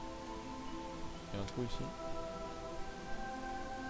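Steady rain falling in the video game Starbound, a soft continuous hiss under someone speaking French and brief game sound effects.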